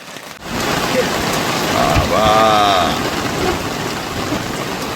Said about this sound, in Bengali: বসে বসে বৃষ্টি দেখছি